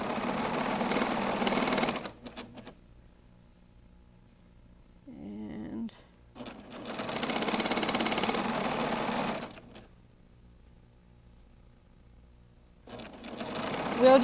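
Sewing machine stitching unpinned quilt layers held together by hand, in bursts of fast, buzzing whir separated by quiet pauses, close up, with brief soft handling noises between runs.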